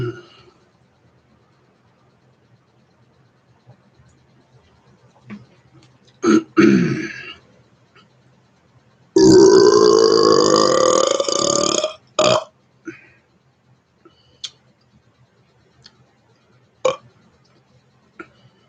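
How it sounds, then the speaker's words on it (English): A person belches out pirate-style words, rolling the R's. A couple of short burps come first, then one long, loud, drawn-out voiced belch, followed by scattered small gulps and throaty clicks in an otherwise quiet room. "burping out some of them pirate-like words was fun"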